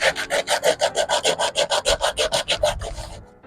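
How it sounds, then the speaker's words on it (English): Hand sanding a homemade wooden hose hanger gives quick, even back-and-forth scrubbing strokes, about twenty rasping passes in close succession, nearby with no voices. "A little bit of hand sanding."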